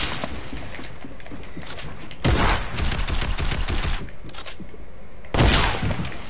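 Sniper rifle fire in an online shooter game, with two loud, sharp bursts of gunfire and a rattling tail standing out over a continuous busy game background, without voices.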